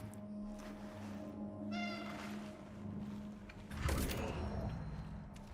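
A cat meows in a video game, a few short plaintive calls over steady game ambience with creaking mechanical sounds, followed by a louder burst of noise near the end.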